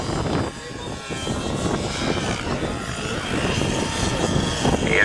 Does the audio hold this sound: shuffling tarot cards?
no